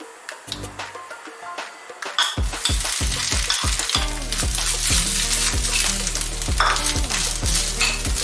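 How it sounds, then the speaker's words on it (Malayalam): Grated coconut and mustard seeds fry in a pan for a Kerala jackfruit erissery, with loud crackling sizzle and repeated scraping stirs throughout, close up and with no talk. "കടുക് വറുക്കുമ്പോൾ ഇപ്പം തന്നെ ഈ തേങ്ങയും കൂടെ ഇട്ട് വറുത്ത് ഇട്ട് കൊടുക്കാം."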